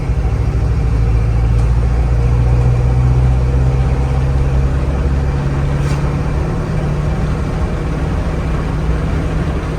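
A 1974 Ford Bronco Sport on oversized wheels, its engine droning loud and close from the cab as it pulls toward 50 mph, a constant low rumble with only slight swells.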